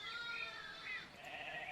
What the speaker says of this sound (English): there were three little sheep named Fluffy, Woolly, and Baba